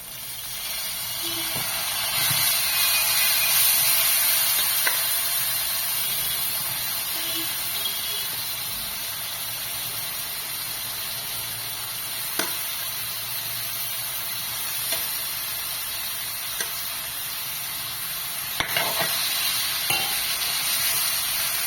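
Beef for a Kerala-style beef ularthiyathu fries in a pan with a continuous loud sizzling hiss, broken by a few faint scraping clicks from stirring.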